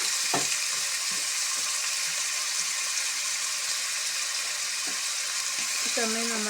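Ginger and garlic frying in oil for a beef fry, a loud steady hiss of sizzling with occasional stirring knocks, and a voice speaking near the end.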